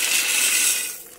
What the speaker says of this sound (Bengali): এবার আমি পাস্তাগুলো জলের মধ্যে ঢেলে দেব